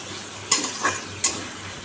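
Spiced jackfruit masala with tomato and potatoes sizzling in oil in a pan, soft frying hiss broken by three quick scraping stirs of a spatula, near and fairly quiet.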